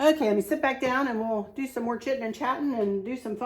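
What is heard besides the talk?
No distinct noise like a dog, phone or traffic.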